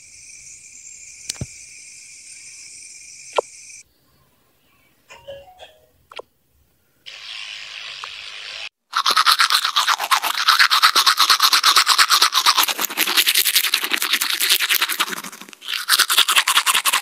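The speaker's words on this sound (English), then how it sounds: "Let's go ahead and brush." Cartoon tooth brushing in the Toca Boca life-simulation game: a rapid, even, scratchy scrubbing loop that runs steadily for several seconds, following a few short electronic chimes and game effects, with no talking.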